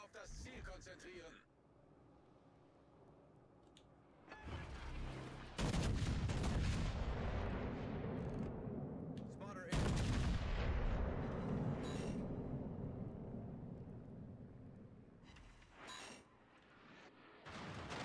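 Warship artillery in World of Warships Legends: heavy naval gun salvos boom out in long, loud rumbling blasts separated by quieter gaps, with speech heard around the firing.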